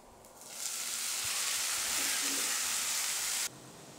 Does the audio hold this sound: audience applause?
no